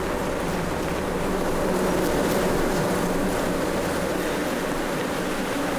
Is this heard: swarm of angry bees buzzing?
yes